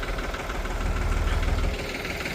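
A small tractor engine idles close by, a steady low rumble with a faint knocking pulse running through the whole stretch and no voices.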